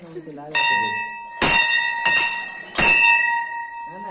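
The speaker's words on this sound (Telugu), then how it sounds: "నేను ఒకసారి కొడతాను గుడి గంట" A temple bell at a Ganga Devi temple standing in a pond rings clearly, struck about three times in close succession with bright ringing tones, and a voice is heard briefly at the start.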